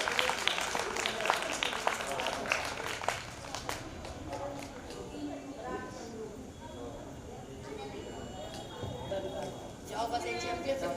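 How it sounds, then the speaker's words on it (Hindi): Schoolchildren at a girls' intermediate college in Jhansi clap for a guest, crisp claps that are strongest at the start, then thin into sporadic claps while people keep talking. "बच्चों, इनके लिए तालियां बजाएं आप लोग।"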